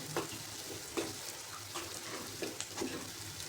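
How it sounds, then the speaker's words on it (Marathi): Moong dal halwa mixture roasting in a pan over a low flame for a traditional granular halwa made without khoa, giving a soft, steady sizzle with intermittent scraping stirs, close and fairly quiet. "लो फ्लेमवरतीच भाजायचं, म्हणजे काय होतं, छान भाजली जाते आपली डाळ ही."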